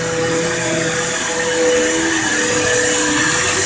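A vacuum cleaner running steadily and loudly up close, a continuous whining roar with a constant motor tone and no pauses.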